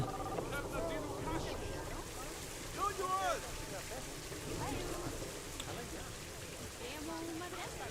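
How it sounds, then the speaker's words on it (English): Rain falling in the zoo-building game Planet Zoo, a constant soft patter beneath game sounds, with a few brief chirping tones and a small burst around the middle. "I swear it's always raining in this game."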